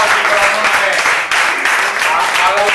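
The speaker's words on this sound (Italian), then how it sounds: "Molti applausi per la notte" Audience applause at an evening dialect poetry and theatre event at Tri Scalin in Novara, a dense steady crowd clapping that stays loud and even for a few seconds.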